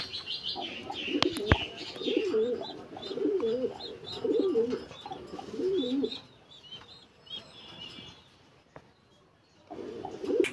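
Racing pigeons coo in a loft, a run of rhythmic, throaty rolling calls repeating close by for several seconds, a short pause, then cooing again, with faint chirps and scattered clicks around them.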